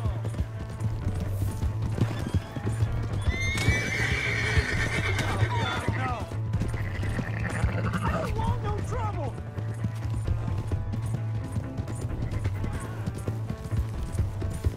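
A horse in the video game Red Dead Redemption 2 neighs and its hooves clip-clop as it gallops away, with a steady low engine-like hum and game sounds underneath.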